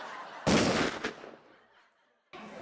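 A sharp, loud burst of gunfire, a heavy blast followed by a quick second crack, then a fading tail and silence before another sound begins.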